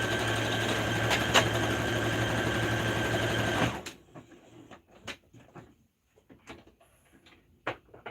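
Sewing machine running a test line of stitches along the edge of scrap fabric for a shelter blanket, a steady loud whir lasting nearly four seconds before stopping abruptly, followed by quiet handling clicks and taps.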